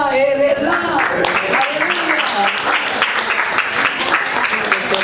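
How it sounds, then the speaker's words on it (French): A church congregation claps during a Rosh Hashanah service, brisk steady applause close by, mixed with voices calling out over it. "on va applaudir le Seigneur parce qu'il est là"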